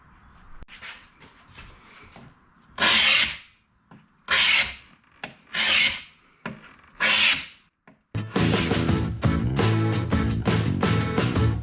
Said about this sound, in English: we'll finish scraping this and then I'll take the sander and do the whole top a little bit and make sure I get the varnish off these edges